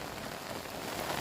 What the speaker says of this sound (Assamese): বৰষুণ আহিল